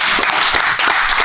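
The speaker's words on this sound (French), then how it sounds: "je pense qu'on peut applaudir très très fort les gars de mon détail" An audience applauds steadily and fairly loudly, a dense wash of overlapping claps with a few sharper individual hits rising out of it, no voices on top.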